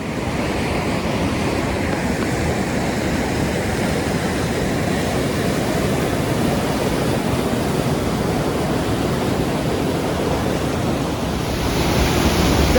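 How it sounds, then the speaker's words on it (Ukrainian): A mountain river in the Canadian Rockies rushes steadily and loudly, with a dense, unbroken roar of churning water close by that holds even throughout, with no voices. "Це гірська річка, яка тут йде, а далі вона заходить заходить під гору"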